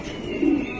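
A racing pigeon gives a single short, low coo, close but soft against a steady background murmur.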